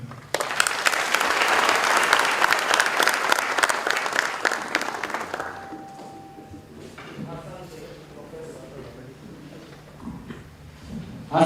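An audience at a formal event in Kisii, Kenya, on alcohol and drug abuse bursts into loud, dense applause for about five seconds, then it tapers off into quieter room sounds and a few voices.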